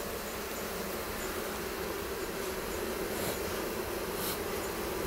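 Honey bees nesting inside the wall of a brick house produce a dense, constant buzzing drone that stays loud and even throughout, with no speech.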